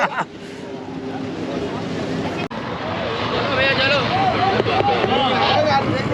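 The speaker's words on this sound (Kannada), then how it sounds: "ಕಡೆ ನಮ್ಮ ಬೋಟ್ ಹೊರಡ್ತು." A speedboat pulls away from a Pattaya platform toward Coral Island, its engine drone and water rush rising steadily and loud, with people talking over it.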